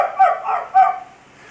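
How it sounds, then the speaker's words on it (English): Dogs next door bark twice in quick loud bursts, close and clear, with a short gap between them and nothing else underneath. "the bark of dogs next door"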